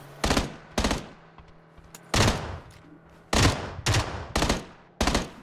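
Loud, close gunfire bursts in the battle royale game PUBG, five or six rapid volleys of automatic shots separated by short pauses.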